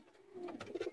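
Rampuri pigeons coo softly nearby, a short low throaty burble rising toward the end.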